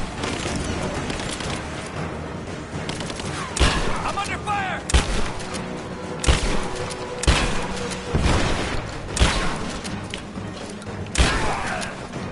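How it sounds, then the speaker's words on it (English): Gunfights in Rise of the Tomb Raider bring scattered heavy gunshots and booming impacts every second or two over a busy rumbling game background, fairly loud and close, with no clear talk. "I'm under fire."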